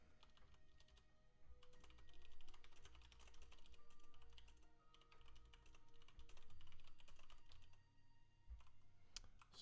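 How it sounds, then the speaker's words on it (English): Continuous rapid clicking of computer keyboard keys while a chat message is typed out, with dense bursts of keystrokes and brief lulls near the end. "Just typing this out in our Momo team channel for Ronick here."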